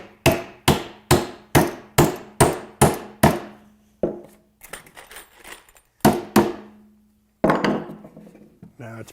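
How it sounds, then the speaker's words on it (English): Sharp, evenly spaced hammer blows drive a nail into a wooden planter box, eight quick strikes followed by scattered lighter taps and a few final blows with a nail set, close and loud with no talking. "use a nail set to finish that so we don't dimple that face"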